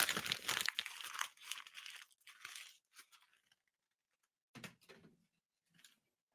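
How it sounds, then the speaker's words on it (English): Sheet of paper being handled and crinkled close by, several loud crackling rustles in the first three seconds, then quieter scattered crinkles after a pause, with no talk. "I got a piece of paper I got to get."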